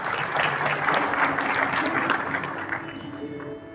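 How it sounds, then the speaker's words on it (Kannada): An audience claps in a big, sustained round of applause at a one-day agricultural seminar on sugarcane in Belagavi. The dense clapping stays steady for nearly four seconds before easing off slightly at the end. "ದೊಡ್ಡದಾದಂತಹ ಚಪ್ಪಾಳೆ."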